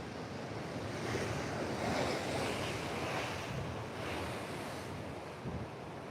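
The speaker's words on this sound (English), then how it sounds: "So a few little fun waves there." Ocean waves breaking and washing in, a steady rolling roar with gentle swells, mixed with some wind rumble; no voices.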